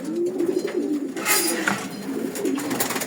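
Pairs of foreign-breed pigeons, Dolly and Michael Buzik types, give a few soft throaty coos close by, with rustling and wing shuffles in between.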